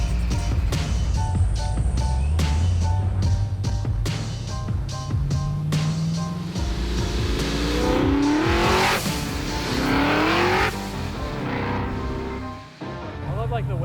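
Supercharged 1970 Chevelle pulling hard on the street, its engine roaring and climbing through the revs while the supercharger whines, then a hiss from the wastegate and blow-off valve as it backs off; loud and close, with voices briefly audible.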